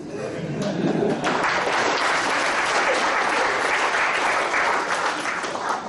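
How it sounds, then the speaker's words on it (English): Audience applause in a room at a business school leadership lecture, clapping that swells quickly after a spoken voice and holds as a dense, steady roar for several seconds. "you want to applaud for that"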